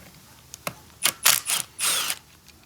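A 10 mm socket wrench ratchets on car bolts during a Honda Civic Si transmission swap into an Acura RSX: a few sharp ticks, then several rapid bursts of close mechanical clicking.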